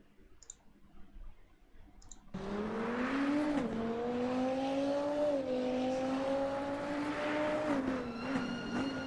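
A field of race cars roars off the line at the start of a sim race at Oulton Park, the engine drone swelling in sharply after a brief quiet with faint clicks, then holding loud and steady with pitch shifts between gears.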